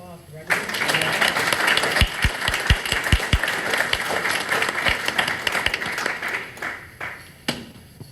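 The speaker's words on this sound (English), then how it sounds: "Let's give these warriors a round of applause." Audience applause at an Army National Guard battle handoff ceremony, steady broadband clapping from a crowd lasting several seconds with a few sharp low thumps mixed in, fading near the end.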